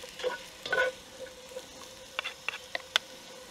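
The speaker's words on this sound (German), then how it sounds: "Geben wir den Knoblauch mit rein. Rösten den kurz mit an." Garlic fries in a pan over onions that have just turned lightly golden, a faint close sizzle broken by occasional utensil taps and light scraping, with no voices.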